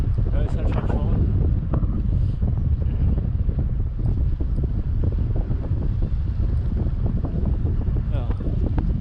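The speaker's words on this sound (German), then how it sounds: "Aber wir haben doch Wind von vorn." A headwind buffets a cyclist riding the 1200 km Paris-Brest-Paris 2023 randonnée, producing loud, steady, rumbling wind noise on the microphone with no letup for the full nine seconds.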